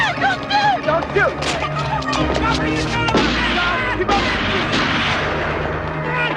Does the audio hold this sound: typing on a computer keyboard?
no